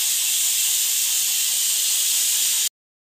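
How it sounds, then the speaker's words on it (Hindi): A pressure cooker on the stove lets out a loud, continuous hiss of escaping steam while food cooks; the hiss holds steady close by and then cuts off abruptly. "अभी खाना बन रहा है तो कुकर की आवाज़ भी आ रही है"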